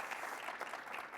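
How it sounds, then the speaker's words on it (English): Audience applause at the IndyFest 2024 event, a continuous dense patter of many hands clapping, faint and somewhat distant, with no talk over it. "Go ahead, you can clap."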